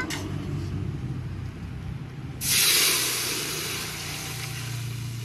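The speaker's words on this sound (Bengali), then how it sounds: "এবার টক ফোড়ন দেব।" Tempering spices, including mustard seeds, hit hot oil for a tamarind prawn chutney, causing a sudden loud hissing sizzle midway that gradually settles into a softer, ongoing fizz.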